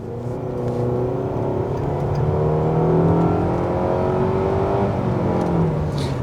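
A 2021 Nissan Rogue accelerates from inside the cabin, its engine groaning and droning steadily upward in pitch with a continuous whir, with no talk over it.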